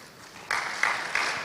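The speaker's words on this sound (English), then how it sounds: "Please, again, join me to give a huge round of applause for our distinguished speakers" Audience at a business conference meeting breaks into applause for its speakers, clapping starting abruptly after a quiet moment and holding steady at moderate loudness.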